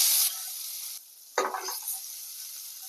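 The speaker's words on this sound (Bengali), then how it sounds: "এবারে এই পটল ভাজার কড়াইতেই আমি কিছুটা পেঁয়াজ দিয়ে পেঁয়াজের বেরেস্তা তৈরি করে নেব।" Onions dropped into hot oil in a kadai for beresta, a bright hiss that flares up suddenly after a quieter moment and then settles into steady close frying.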